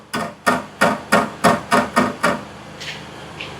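Loose license plate bolts on a 2013 Toyota RAV4 rattle and knock in a series of about eight sharp, evenly spaced hits, close and loud, followed by a couple of fainter taps.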